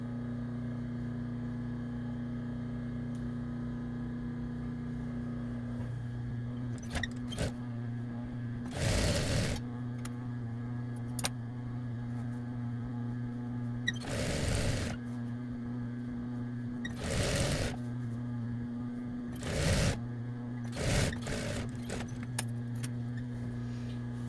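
A sewing machine stitches a sleeve hem, with several loud, sharp bursts of rapid stitching separated by pauses, all over a steady low electrical hum.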